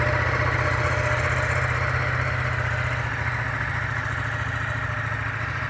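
A motorcycle engine idles at slow speed, a steady, close mechanical chug with even vibration as the rider finds the clutch bite point during slow-speed riding practice. No one speaks.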